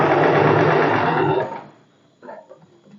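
A sewing machine stitching a boat neck dress runs fast and close for about a second and a half, then stops, followed by a few short, quieter bursts of stitching.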